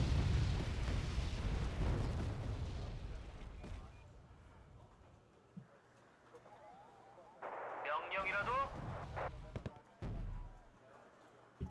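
Rifle and mortar fire thunder in a video game battle, heavy booming blasts early, then quieter scattered shots and game effects, with a voice speaking at times.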